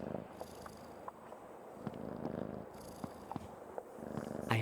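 A cat purrs steadily and close up in the video game Creepy Tale 2, a low continuous rumble dotted with small clicks and no talking.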